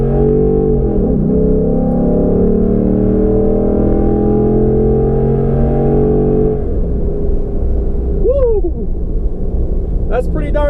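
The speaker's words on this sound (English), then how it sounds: "Do a little acceleration for you guys." A Ford Ecoboost V6 truck fitted with an S&B cold air intake accelerates, its engine droning loudly with rising harmonics before easing off, while a voice talks over it.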